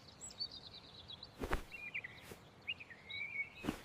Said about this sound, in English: I hear birds outside the window.